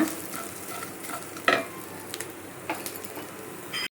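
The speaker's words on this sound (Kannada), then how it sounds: "ಇವಾಗ ಇದನ್ನು ಲೋ ಫ್ಲೇಮಲ್ಲಿ ಇಟ್ಟು ಫ್ರೈ ಮಾಡ್ಕೊಳ್ಳೋಣ." Cumin seeds frying in a pan over a low flame, a continuous close sizzle with intermittent spatula scrapes and light taps, cut off abruptly at the end.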